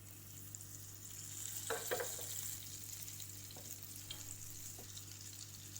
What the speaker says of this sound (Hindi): ये बटर को हमें अच्छे से पिघलाना है।